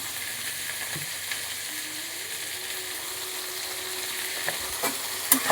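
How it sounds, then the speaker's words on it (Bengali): Bottle gourd chicken soup is stirred in a pan after salt goes in: a steady, close sizzle with soft scraping from the spoon and a few sharper clicks near the end, with no talking. "আবার একটু নেড়ে নিচ্ছি নুন দিয়ে।"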